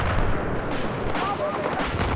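Gunfire in Battlefield 4 on the Shanghai map, heavy rattling shots and booming reports mixed into a dense, loud battle din with a voice talking over it.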